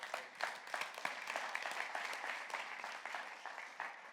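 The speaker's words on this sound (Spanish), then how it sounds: "le da ese aplauso fuerte" A church congregation claps strongly during a sermon, many hands producing an uneven, bursty patter that sounds somewhat distant and quiet, continuing throughout without talk.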